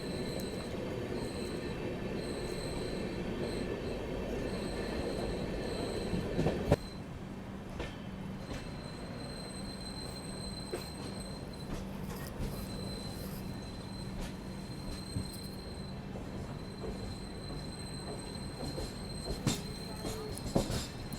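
A passenger train hauled by a WAP-7 electric locomotive pulls out of a station, its wheels squealing in a steady high whine over a low rumble, with sharper clanks and rattles as the cars move.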